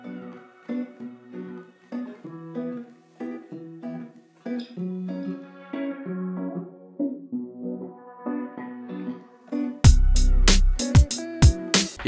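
Guitar-based beat intro built in FL Studio with a low-pass filter, muffled plucked guitar notes looping at moderate volume, then drums and a full unfiltered mix bursting in near the end.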